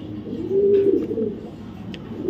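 A big, oversized male grizzle racer pigeon from 2023 gives a single low, drawn-out coo near the middle, fairly close, over a steady background hum.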